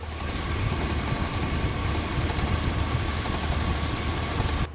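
A GMC Silverado engine idles steadily with the hood up, a constant low rumble and rattle from a loose fan shroud, close and continuous with no talking.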